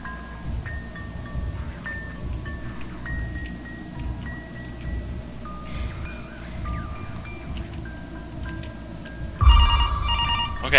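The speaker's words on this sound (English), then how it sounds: "Okay, I have to answer the phone again." A telephone rings again and again over a steady low background hum, its bell tones running through the whole stretch, with a louder burst of noise near the end.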